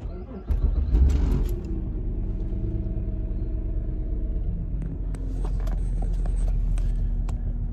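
A car engine started with a key fob turns over and catches, then settles into a steady low idle rumble close by, with small clicks and creaks on top.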